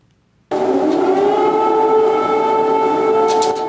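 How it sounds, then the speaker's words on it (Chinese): A loud air raid siren in Kyiv, Ukraine, starts abruptly after a short silence and holds a steady, sustained wailing tone. "乌克兰首都基辅礼拜日半暝还响起空袭警报"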